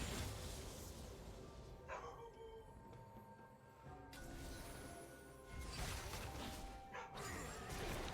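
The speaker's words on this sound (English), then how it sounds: "He's barking." A dog barks a couple of times, fairly faint and spaced apart, set against a low, busy background.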